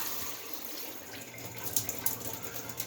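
Hot water runs steadily from a tap, a continuous close splashing hiss with no voices.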